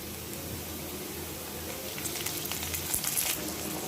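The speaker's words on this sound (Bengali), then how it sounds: "পেঁয়াজ দুই মিনিটের মতো ভাজি করে নিব" Onion and tomato frying in a pan for a pointed gourd curry, a steady close sizzle with a few louder crackles toward the end, no talking.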